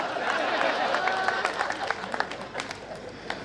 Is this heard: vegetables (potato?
no